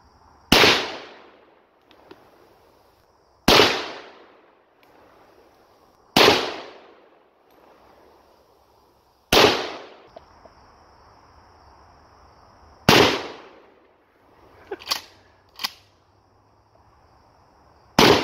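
Guns fired outdoors by first-time shooters, six sharp loud shots spaced a few seconds apart, then a quicker pair of fainter pops, with crickets or insects chirping faintly in the quiet between.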